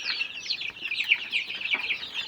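A rooster clucks and chatters in a series of quick, bright calls that run almost continuously, fairly close and moderately loud, with no voices.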